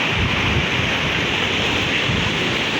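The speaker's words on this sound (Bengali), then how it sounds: "প্রচন্ড ঢেউ আসতেছে, দেখছেন প্রচুর ঢেউ।" Strong sea waves roar steadily on a beach at Chattogram, a dense, loud wash of surf with wind buffeting the microphone.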